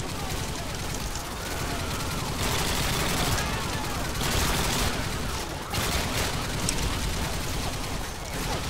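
Dense, continuous automatic gunfire from Call of Duty: Modern Warfare II, with overlapping rifle bursts and machine-gun fire sustained and loud throughout, mixed with game effects and occasional voices.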